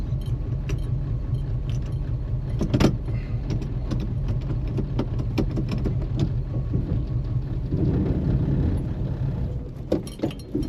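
Chevy Nova's engine rumbling steadily on its first drive, with clunks and rattles throughout, swelling briefly near the end before stalling into quieter knocks.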